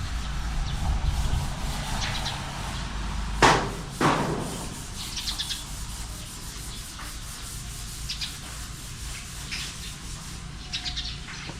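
Steady rasping of sandpaper rubbing over palochina wood on a table project, a continuous gritty scratch with a couple of louder knocks early on.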